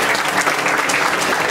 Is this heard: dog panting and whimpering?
no